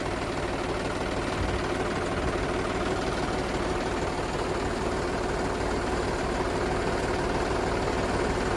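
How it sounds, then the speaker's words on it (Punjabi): An electric water pump motor runs on a potato farm, a steady low mechanical drone with a constant hum and no breaks, heard up close with no talking. "ਮੋਟਰ ਚੱਲਦੀ ਆ ਤੇ ਆਹ ਪਲਾਟ ਨੂੰ ਚੱਲਦਾ ਪਾਣੀ"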